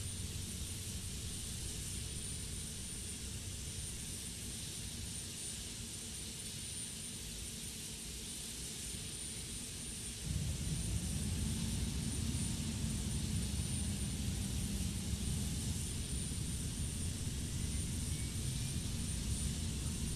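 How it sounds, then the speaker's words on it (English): A Boeing 727 jet engine starting in the FSX flight simulator: a steady whine and rumble that steps up sharply in loudness partway through as the engine spools and holds at a louder, fuller roar. "now engine 3 is starting to come on its own"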